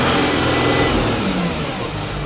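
Audi Q7 diesel engine, just repaired after rough running and misfiring on a faulty fuel injector, revs steadily from inside the vehicle with a broad, even mechanical roar that holds close and loud throughout.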